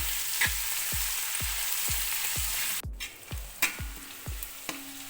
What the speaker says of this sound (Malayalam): ഇത് നന്നായിട്ടൊന്ന് വാടി വരുന്നത് വരെ നമുക്കൊന്ന് ഇളക്കി കൊടുക്കാം